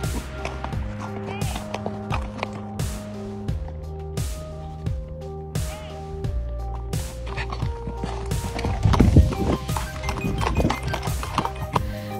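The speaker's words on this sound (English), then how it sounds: "That horse sprinting in the other direction sells that theory for me." A horse sprints away, its hooves striking in a steady, fast, rhythmic clatter that carries on for several seconds over a sustained tonal background, with no voices.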